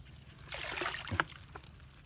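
Water pours and trickles while something is washed, a soft splashing stream building for about a second with a few small splats, close by and without voices.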